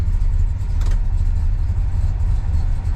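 A 1966 Chevrolet Biscayne with the L72 big-block V8 idles close by, a deep, steady, lumpy rumble with a brief rise in intensity, no voices over it.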